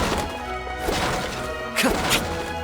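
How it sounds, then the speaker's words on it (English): Wooden boxes smashed in the video game Genshin Impact, a run of loud crashing impacts over a busy game soundscape, with two sharper bursts near the end. "Can't you destroy the boxes a little more quietly?"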